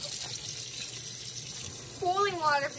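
Hot water runs from a tap while a keyboard is being cleaned, a steady hiss of flow that continues throughout, with a voice exclaiming near the end.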